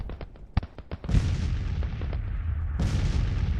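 Artillery fire in the Grand Tactician Civil War strategy game: a rapid series of sharp cannon-like reports, followed by heavier booming blasts that roll into a sustained rumbling barrage, fairly loud and with no talk.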